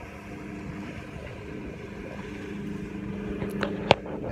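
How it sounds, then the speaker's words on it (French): Boat engines run at a low, steady drone on a vessel under sail. The hum stays constant, with a few brief clanks near the end. "Un peu moins de bruit les moteurs"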